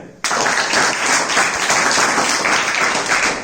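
Audience at a Republic Day and Basant Panchami event breaks into sudden, loud clapping after a brief quiet moment, a dense, steady burst of many hands that carries on evenly to the end.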